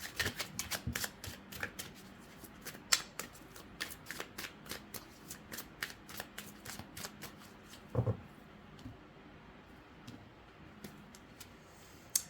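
Tarot cards being shuffled by hand, a quiet run of crisp riffling flicks and taps in irregular bursts, with one louder thump partway through and no talking.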